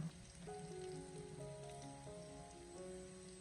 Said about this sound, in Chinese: 我们开小火将饼坯慢慢的小火煎制，将饼坯给它煎至金黄酥脆